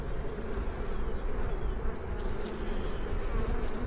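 A dense, steady hum of honey bees surrounds an open hive during an inspection, close and continuous with no talking.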